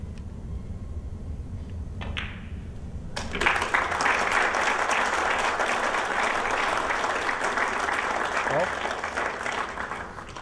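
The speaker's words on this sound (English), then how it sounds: "the crowd, I think, is clapping a little bit louder now" Applause breaks out from the crowd at a World 14.1 straight pool match, first faint and then swelling into steady, full clapping that holds for several seconds.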